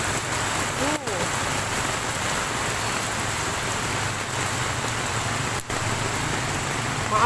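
Heavy rain pours in a loud, unbroken roar during a flood in Tanjungpinang, Indonesia, with a faint vehicle engine rumbling underneath and a couple of brief knocks.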